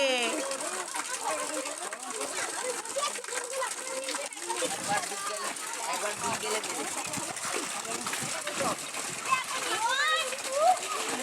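Two young children and their father swim in a village pond, producing a steady wash of splashing water throughout, with voices and kids' chatter mixed over the continuous splashes.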